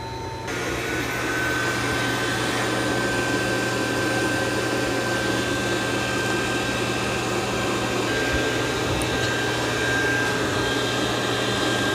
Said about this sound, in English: It's going to vacuum and mop at the same time.